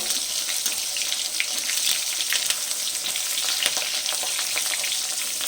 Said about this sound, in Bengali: আবার ওই তেলের মধ্যেই আমি বেগুনগুলোকে দিয়ে দিচ্ছি